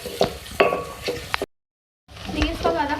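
Bay leaves, cinnamon, and green and black cardamom fry in a pan for a chicken and cauliflower dish. There is a light sizzle with sharp utensil clinks and stirring scrapes, and the sound drops out completely for a moment midway.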